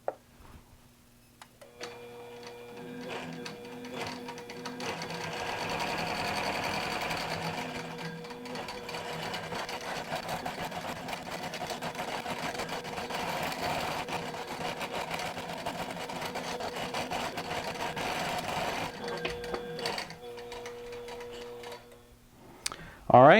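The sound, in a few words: QBOT V3 quilting machine stitching an overlay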